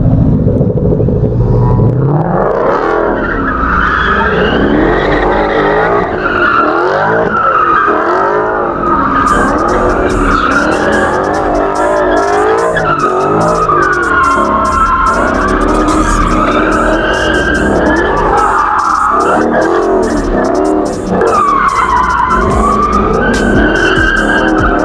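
A truck doing donuts at a car meet takeover roars continuously, its tires squealing and skidding in long wavering screeches over a loud engine rumble, close and unbroken throughout.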